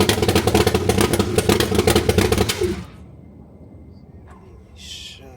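A Corvette C3 V8 engine, carbureted and puffing white smoke with water in the oil, runs loud and rough with a steady throbbing idle for a few seconds, then stalls abruptly into quiet background noise.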